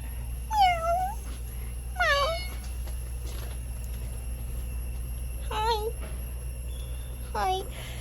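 Two hungry pet cats meow indoors, four distinct, fairly loud meows spaced a second or more apart over a low steady background hum.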